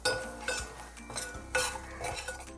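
Masala and turmeric sauté in hot oil while a metal spoon stirs and scrapes the pan, making quick clinking strokes over a light sizzle; no speech.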